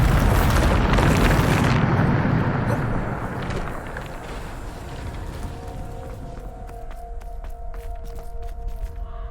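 A Bombarda spell detonates in Hogwarts Legacy with a loud, deep booming blast that rumbles and slowly decays over several seconds, leaving lighter crackling debris and faint tonal game effects behind.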